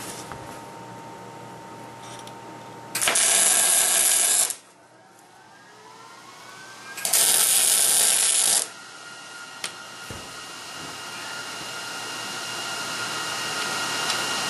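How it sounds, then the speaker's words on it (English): Two bursts of MIG-style tack welding on a mobile leg vise, each about one and a half seconds of loud, steady crackling buzz. Quieter shop hum fills the gaps between them, and no one talks. "Just going to tack this edge on both of them."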